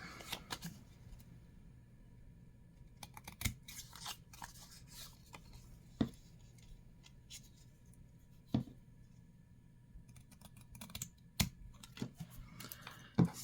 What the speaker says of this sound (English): Now we're going to cut that away.